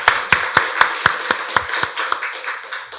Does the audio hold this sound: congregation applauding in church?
yes